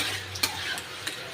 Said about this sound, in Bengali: এবার আমি একটু নেড়ে নেব